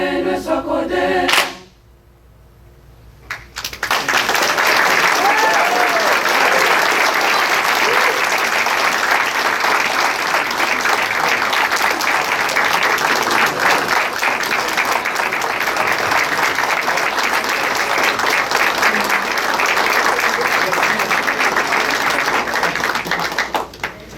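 Audience at a Seguin ISD board meeting applauds the Seguin High School Choir, a brief moment of singing giving way to loud, sustained clapping that fills the room for about twenty seconds.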